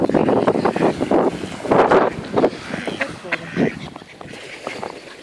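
Ducks quack in short bursts outdoors at Sow House Broad in Norfolk, nearby, with wind buffeting the microphone and some voices in the background.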